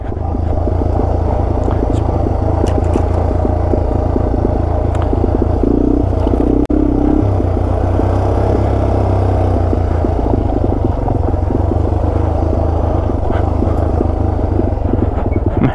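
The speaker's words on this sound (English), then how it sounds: "that put me in second gear right there. I like using the engine braking for trailing." A Yamaha TW200 dual-sport motorcycle engine-brakes in second gear on a dirt trail, a steady loud engine drone with rumbling low tone throughout, a brief shift in pitch midway.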